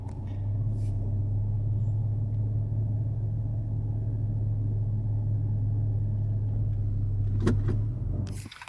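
Toyota FJ Cruiser engine idling low and steady during a parallel park, a constant near rumble with a brief thump near the end.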